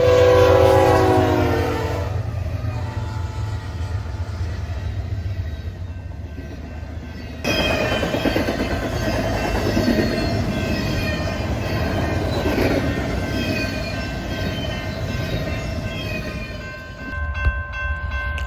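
A westbound intermodal freight train led by five GE locomotives rumbles past, heavy engines droning loudly, a horn sounding early on, and steady wheel noise continuing throughout.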